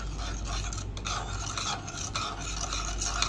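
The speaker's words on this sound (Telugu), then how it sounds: "ఇప్పుడు చాక్లెట్ మిక్స్ని ఇందులోకి ఎంటర్ చేసుకోవాలి. ఇప్పుడు దీన్ని మిక్స్ చేసుకోవాలి." Chocolate ice-cream mixture with sugar powder being stirred or blended, a close, continuous rough churning and scraping with small clinks against the bowl, heard alone with no talk.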